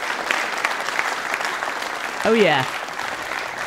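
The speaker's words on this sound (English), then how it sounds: "So how about some applause" A crowd applauds steadily, a dense patter of clapping, while someone calls out briefly over it.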